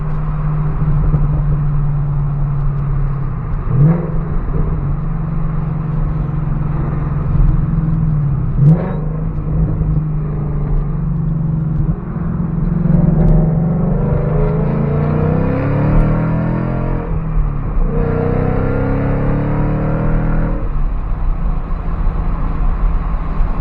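A Mustang PP2 engine idles with a steady hum, then revs hard several times, the pitch climbing sharply as it accelerates, loud and close.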